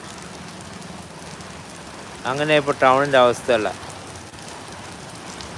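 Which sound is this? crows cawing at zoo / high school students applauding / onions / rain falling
rain falling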